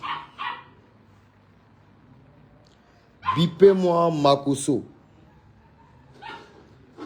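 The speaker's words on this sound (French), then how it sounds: "calme le chien là" A dog barks in a loud cluster of several close, sharp barks mid-clip, while someone talks excitedly before and after.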